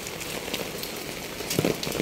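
Steady rain patters on a surface outdoors, a dense even hiss with scattered drop taps, fairly quiet and unbroken.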